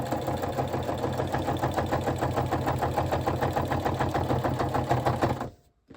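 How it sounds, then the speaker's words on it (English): A sewing machine stitches a scrappy flip flop journal base, a close, steady rhythmic chatter running for about five and a half seconds before stopping abruptly. "I'm going to sew all the way down."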